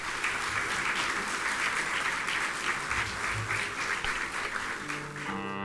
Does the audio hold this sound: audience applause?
yes